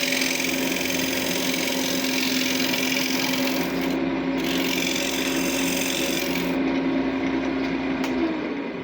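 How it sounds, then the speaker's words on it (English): A chisel shaves wood on a spinning lathe while chasing threads, a steady loud scraping, rubbing rasp over a constant motor hum, close and continuous with no talking. "So I just usually use my chisel"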